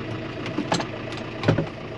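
A John Deere 6120M tractor engine idles steadily while hitched to a feed wagon, a close, continuous low rumble with a couple of brief knocks and clatters over it.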